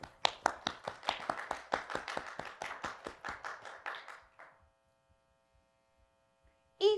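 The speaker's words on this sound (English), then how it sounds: "Please join me with a round of applause as we congratulate our winners." Applause for award winners at a recognition presentation, a few people clapping in a quick, even rhythm at close range that fades out after about four seconds, leaving a faint hum before a brief sound at the end.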